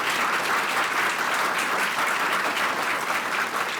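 Steady, dense applause from a large audience welcoming the president of the Korean Bar Association to the podium at a law school moot court competition, continuous and even throughout with no talking.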